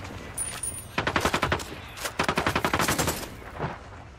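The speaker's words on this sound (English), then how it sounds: "Fire. Opening fire." Two rapid bursts of automatic gunfire ring out in a game firefight, each a string of evenly spaced sharp shots, close and loud, with a short pause between them.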